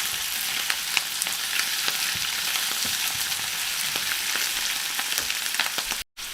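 Champignon mushrooms sizzle steadily in a hot pan while being stirred, with intermittent scraping clicks over a constant frying hiss, close and fairly loud, ending in a brief cutout.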